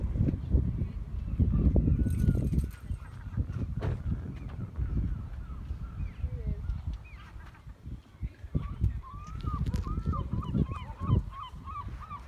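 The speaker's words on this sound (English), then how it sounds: "I think the drone annoyed the seagulls." Seagulls at Rye Harbour Village in East Sussex, disturbed by a drone, give repeated honking calls that grow into a rapid series near the end, over loud wind buffeting and low rumble.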